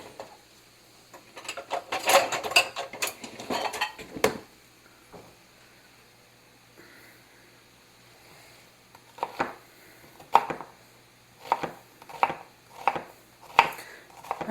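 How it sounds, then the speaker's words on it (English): Sharp knife strokes chopping an onion on a board in a home kitchen, a burst of quick cuts, a pause, then a run of evenly spaced, crisp chops close by. "thing I need to do is to get this onion chopped up"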